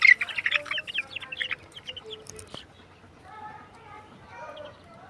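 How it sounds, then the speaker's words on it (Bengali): Young chicks kept in a cage chirp in quick, high bursts while drinking water from a pot, loud and close at first, then thinning into softer, scattered calls. "মুরগিগুলো কি সুন্দরভাবে পানি খাচ্ছে।"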